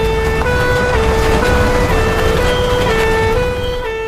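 A loud fire engine siren in an animated cartoon wails continuously in a rising and falling pattern with a vehicle engine underneath, close and with no talk.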